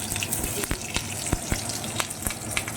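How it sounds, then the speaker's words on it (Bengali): Green chillies frying in hot mustard oil with black mustard seeds, a loud close crackling sizzle with sharp pops and spatters throughout. "কয়েকটা কাঁচা লঙ্কা ফাটিয়ে দিয়ে দিচ্ছি"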